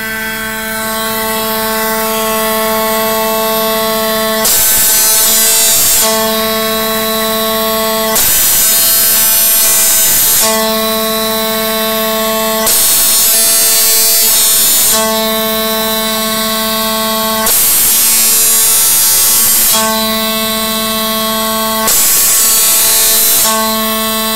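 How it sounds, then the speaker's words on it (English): A CNC engraving machine cuts into a plate with a steady high-pitched motor whine, punctuated by repeated louder bursts of cutting noise at regular intervals across the pass, loud and close, with no talking. "I'm gonna hit run. The machine's gonna do the engraving."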